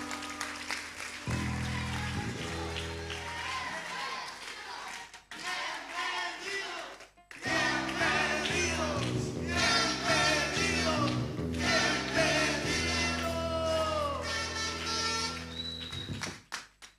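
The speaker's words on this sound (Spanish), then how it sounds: "Un aplauso muy fuerte." A church congregation at Iglesia Central Santa Cruz cheers and claps loudly over steady worship music, with a brief drop near the middle before the crowd noise surges back in.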